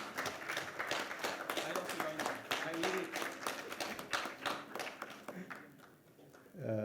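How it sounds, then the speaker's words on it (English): Audience applause at an industry event, a burst of clapping that fades toward the end. "Please welcome him with a round of applause."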